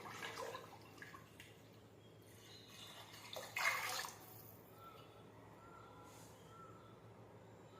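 A small pan of water pours into a pot of kanki (broken-rice porridge), a steady close splashing stream that swells briefly in the middle before settling back to a soft trickle.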